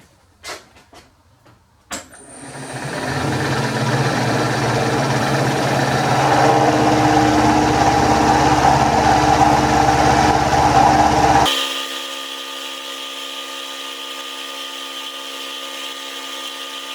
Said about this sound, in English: we bring it to final size with an end mill